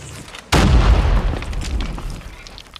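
A single heavy blast of gunfire from a JAK-12 shotgun in Call of Duty Mobile hits loud and close, then its booming low rumble slowly trails off.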